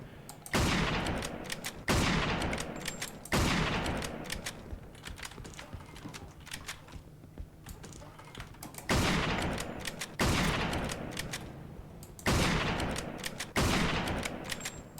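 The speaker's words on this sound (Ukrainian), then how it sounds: "І скільки мені ще тут стріляти?" Repeated bursts of rapid gunfire in Mafia II: Jimmy's Vendetta, each volley sharp and loud then trailing off, separated by short gaps with faint background noise.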